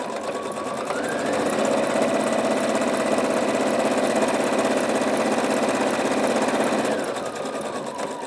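A sewing machine runs steadily while stitching the side seam of a small fabric sachet, a continuous close, loud whirring hum that starts up, holds for several seconds and then winds down, with no talking.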